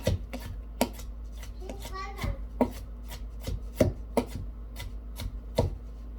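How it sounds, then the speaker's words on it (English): A knife chops a tomato on a cutting board for salad, about a dozen crisp, irregular thuds close by, each a sharp tap against the board. "I'm just going to use the weight of the knife and push down and chop the tomato."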